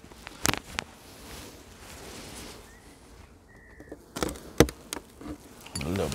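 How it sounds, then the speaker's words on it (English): Soft buzzing of honey bees close by inside a hive, with a few sharp knocks and taps breaking through the hum. "Lots of bees up in here still."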